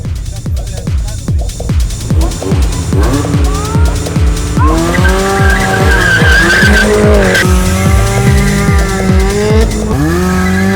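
A Mazda MX-5 spins around on a race track, its tires squealing and skidding loudly as the engine revs rise and fall in sweeping pitch, close and sustained for several seconds.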